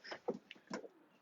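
Racing pigeons give a brief, soft cooing call of a few low throaty notes, close by and quiet, with no talking.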